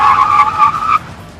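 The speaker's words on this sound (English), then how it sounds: "Do a brake test." A 2014 Mazda3 skidding hard under a brake test, a loud, close tire squeal held for about a second before it cuts off into quiet.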